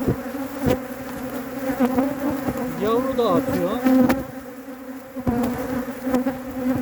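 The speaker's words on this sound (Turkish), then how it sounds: "ama arı tepemizde oğul veriyor" Honeybees buzz and drone close by overhead, a dense humming swarm with occasional louder passes and a brief voice speaking over it.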